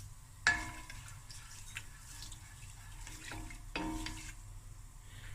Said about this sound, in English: And now I'm just going to stir this up.